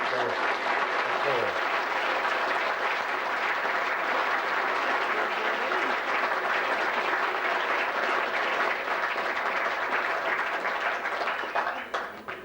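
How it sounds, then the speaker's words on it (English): Loud, sustained applause from a large crowd, steady clapping that runs for several seconds before tapering off near the end. "please give them all a round of applause"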